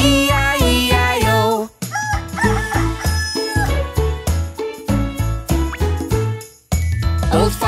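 A cartoon rooster crows loudly in a bright, jingly farm nursery rhyme, its cock-a-doodle-doo calls riding over a bouncy, tinkling music track.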